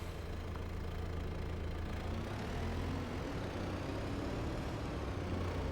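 A Kubota tractor with a CVT in Farming Simulator 22 runs at a steady drone, a constant dense engine rumble with no change in pitch or other sounds.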